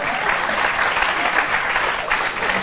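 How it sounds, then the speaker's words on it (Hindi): Loud, continuous applause from a group of people, a dense wash of clapping that holds steady for a couple of seconds. "ताली बजाइए"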